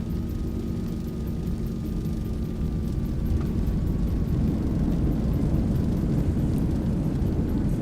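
Thrust reversers roaring on a Zibo 737-800 landing in X-Plane 12, a broad rumbling jet roar that swells louder partway through and stays steady, with a faint tone fading underneath.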